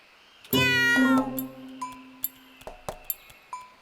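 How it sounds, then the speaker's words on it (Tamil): A cartoon cat lets out a loud, drawn-out meow, followed by a series of short, sharp clinking and pinging hits. "meow meow meow meow meow meow"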